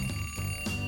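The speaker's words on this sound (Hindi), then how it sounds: "अलार्म क्लॉक जगाने में मदद करेगी।" An alarm clock rings in a cartoon scene, a steady electronic tone with brief pulses, loud and close with no talk over it.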